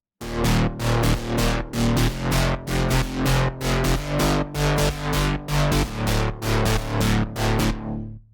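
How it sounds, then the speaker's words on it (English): A thick, buzzing synth bass line pulses in a steady rhythm, loud and dense, then cuts off abruptly at the end. "Really strong and powerful bass line,"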